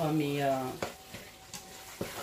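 A spoon stirs minced-meat stuffing for round zucchini as it simmers in the pan, with a few soft scraping knocks and a low sizzle after a brief voice at the start.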